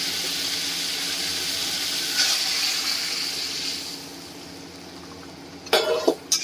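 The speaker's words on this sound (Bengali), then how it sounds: "এবার দিয়ে দেওয়া হচ্ছে উষ্ণ গরম জল।" Warm water pours into a Bengali Vetki fish curry simmering with green chillies, a steady splashing rush that fades after a few seconds, followed by brief clattering bursts near the end.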